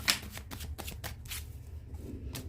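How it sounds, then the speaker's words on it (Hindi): Tarot cards shuffled by hand in a quiet room, a quick series of close, crisp riffling bursts with short pauses between them, heard alone. "one more shuffle and last shuffle"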